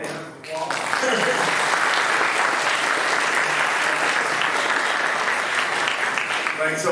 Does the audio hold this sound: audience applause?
yes